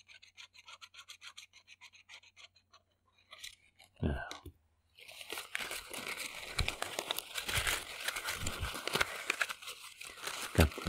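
Crinkly material is rubbed and then crumpled close to the mic for ASMR, first as soft intermittent rasping clicks, then after a brief pause as a dense, continuous crackling and crunching rustle.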